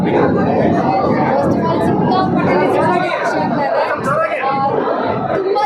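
Dense chatter of a crowd filling a packed movie theater, many voices overlapping into a loud, continuous babble close around, with a nearby person speaking through it.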